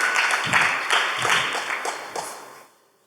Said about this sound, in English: let's give Harry a nice round of applause for looking after our children like this